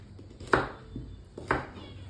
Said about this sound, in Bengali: এটার মাঝখানে কেটে নিয়ে টুকরো করে নিলাম